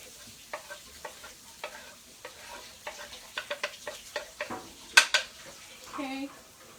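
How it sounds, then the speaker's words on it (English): Minced garlic stirred in a hot pan, giving a run of close scraping and tapping strokes over a faint sizzle, with a couple of sharper clacks near the end. "I'm just going to go ahead and throw that in the pan."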